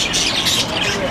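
Budgies squawk and chirp in a brief, busy burst at a bird market, with sharp repeated calls close by over background noise.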